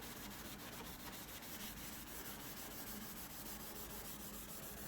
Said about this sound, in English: run a Scotch-Brite pad just to remove these light staining that's on the stainless steel